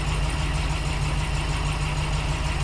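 A 1954 Buick engine idles steadily in park, its low, even rumble close and continuous with no voices over it.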